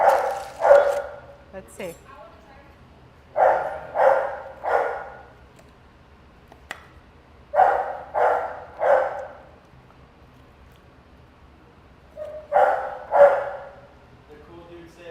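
A dog barks in short clustered bursts of two or three, with pauses between, close by in a home kitchen where ribs have come out of the oven; a person speaks briefly.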